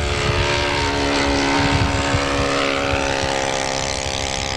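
A propeller model airplane flies at a model aviation meeting in Yverdon, its engine a loud, continuous buzzing drone with steady harmonic whine, close by throughout.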